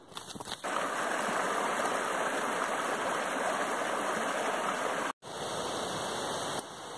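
The Sacandaga River rushes past a trail crossing on the Northville-Placid Trail, a loud, even, close roar of flowing water that drops out for an instant and then resumes.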